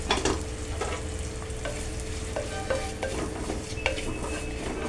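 Roasted chili, coriander and turmeric powders stirred into ginger and garlic frying in oil, a loud steady sizzle with a spoon scraping and tapping the pan at irregular intervals, close up.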